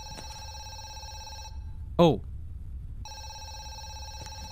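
Telephone in the horror game Zoochosis rings with a repeating electronic trill that stops abruptly partway through, followed by a short spoken exclamation before the ringing resumes at the same steady level.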